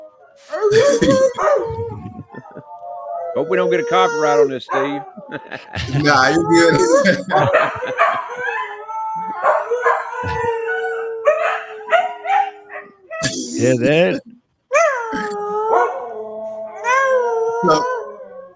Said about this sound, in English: I know they're howling, but it looks like they're howling in tune.